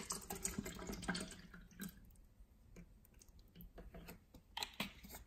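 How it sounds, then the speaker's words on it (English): Spring water from Mount Palomar, California, poured from a bottle into a small plastic test cup, giving a close, splashy trickle with a few clicks and pauses over several seconds, no talking. "Let's pour some water in."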